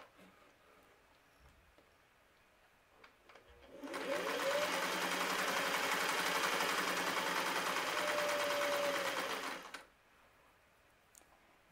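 A Singer Touch and Sew 603 sewing machine, not yet lubricated, starts up, runs with a steady, loud whirring hum for several seconds, then stops, with quiet background noise before and after.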